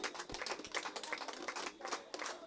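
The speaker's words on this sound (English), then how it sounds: "give yourself a loud round of applause" Faint, dense applause from a crowd at a public meeting in Byelands, St. Andrew, a steady patter of many hands that continues without a break and sounds distant and soft.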